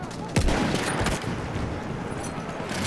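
Pistol gunfire in Battlefield 1, a sharp close shot near the start followed by a few further reports amid dense, busy battlefield noise and background game sounds, with a voice briefly audible.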